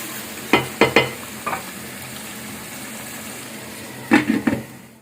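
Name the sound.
stirring tomato paste into chicken karahi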